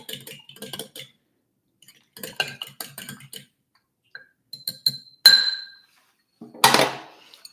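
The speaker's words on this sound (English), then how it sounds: "you can use a whisk or a fork, just beating these quickly" Eggs beaten quickly with a fork in a bowl for breakfast burritos, heard as bursts of light clinking and tapping of metal against the dish, coming in several short rhythmic spells separated by pauses.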